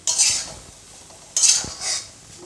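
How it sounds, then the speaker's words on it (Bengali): Grated coconut is stirred in a kadai. Two short bursts of scraping sound close by, separated by a quiet pause, and no one speaks. "নারকেলগুলো দেওয়ার পরে কড়াইয়ে একটু নাড়ছি নাড়াচাড়া করছি যাতে না জ্বলে যায়"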